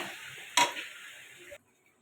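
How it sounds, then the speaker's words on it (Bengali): Cabbage curry with shrimp sizzles in a pan as it is stirred, a soft steady frying hiss with one brief clatter of the spoon against the pan before the sound suddenly stops. "ঢাকাটা খুলে আর একটু নেড়ে দেবো।"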